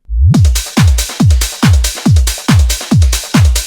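A punchy, booming kick-heavy loop repeats steadily, eight thuds in quick succession with bright crashy noise above, loud and retro-sounding.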